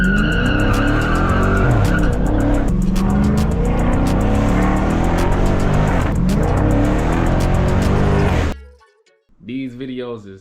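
Dodge Scat Pack on Chicago streets, a loud close engine roaring and revving with tire squeal for about eight seconds, then cutting off abruptly before a shorter burst of revving returns.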